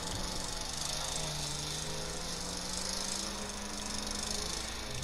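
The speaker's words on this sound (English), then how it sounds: "Sorry about the lawnmower." A lawn mower drones nearby as a constant, loud engine buzz with a slowly wavering low tone, running without a break and without voices.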